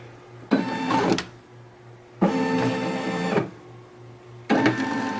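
A Brother SE 625 embroidery machine traces its design outline in three short motorized bursts of whirring and buzzing, each separated by a low steady hum.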